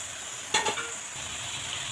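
Fish with vegetables, pumpkin greens and stems frying in a pan, a steady close sizzle with a sharp clink of a utensil against the pan early on, then the frying continues alone.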